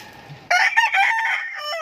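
A caged rooster crows once, loud and close, a long strained call that rises after a quiet start with faint background noise.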